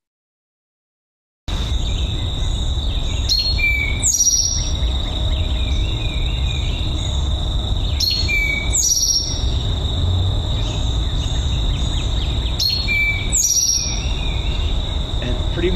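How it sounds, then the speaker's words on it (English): An Eastern Towhee repeats its three-part drink-your-tea song three times at a steady pace, clear and fairly close, over a constant bed of insect and cricket buzzing. "that bird is the Eastern Towhee"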